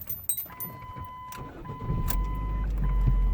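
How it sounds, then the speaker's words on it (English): A 2000-2011 Ford Focus with its fuel relay pulled, cranking with a high whirring starter tone, then catching into a low, steady engine rumble that grows louder and continues to the end. "I'm going to turn the car on until it dies."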